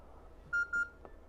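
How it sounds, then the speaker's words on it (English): A Yaesu radio powering on gives a double beep: two short, clean electronic tones in quick succession, moderately loud over faint background hiss. "And you heard a double beep."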